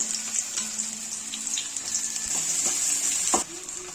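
Onions frying in oil in a kadai give a steady close sizzle, with occasional clinks and scrapes of stirring and no talk.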